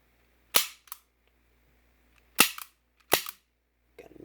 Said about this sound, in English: Slide locks back, slide flies forward.